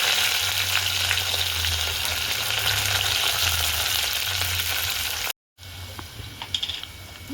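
Green chilies and curry leaves sizzle and crackle in hot oil for dal palak, a loud steady frying hiss that cuts out briefly near the end and resumes with a few sharper pops.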